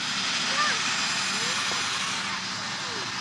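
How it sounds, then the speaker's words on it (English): An airplane takes off near an airport, with a loud, steady roar of engines and broadband rush filling the scene throughout. "Aeroplane's taking off."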